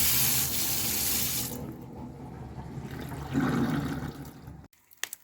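Tap water gushing out at very high pressure into a bathroom basin, a loud steady rush that eases a little after the first moment, keeps flowing, then cuts off abruptly, followed by a couple of small clicks.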